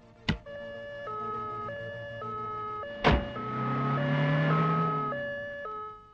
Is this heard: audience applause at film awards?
no